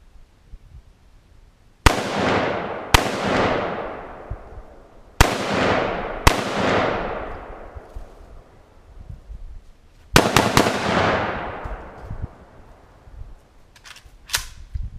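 Gunshots are fired at an air conditioner in a backyard: about six sharp, loud reports at irregular intervals, each trailing off in a ringing decay, with quiet gaps between.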